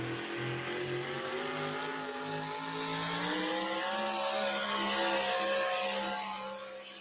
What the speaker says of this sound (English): Good run for Murray Thornton, hitting the rev limiter right there at the end.